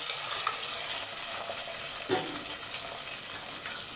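About 150 grams of small shallots fry in hot oil on a low flame for a quick fish curry, producing a steady close hiss with occasional stirring knocks and no speech.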